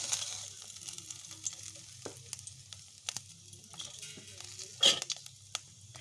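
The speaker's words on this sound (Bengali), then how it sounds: "তো আমি একটু নাড়িয়ে ভেজে নেব।" Dried chilies, cumin and bay leaves frying in oil, a soft crackling sizzle with light scrapes and taps of stirring, one sharper clink near the end, quiet and close.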